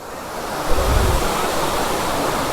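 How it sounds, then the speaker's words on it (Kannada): Silver Cascade waterfall in Kodaikanal pours in winter, producing a constant, loud, broad rushing roar of falling water close by with no pauses. "ನೋಡಿ ಹಿಂಗಿದೆ ಫಾಲ್ಸು, ಸಕ್ಕತ್ತಾಗಿದೆ ಮಾತ್ರ."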